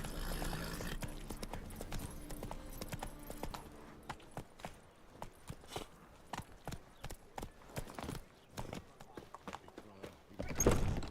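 Hooves of Roach, the horse in the video game The Witcher 3, beat a steady galloping rhythm of quick clip-clops that grows clearer through the middle of the clip, with speech heard early on.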